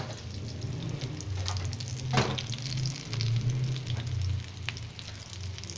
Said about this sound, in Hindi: फिर हमने इसको ऑयल के ऊपर जो है रखा है, गरम ऑयल के ऊपर।